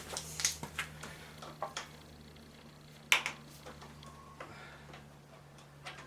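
A ratchet wrench works loose the 8mm coil bolts on a Murray lawn tractor, giving scattered, faint, quick clicks in small bursts against a quiet background hum, with no talking.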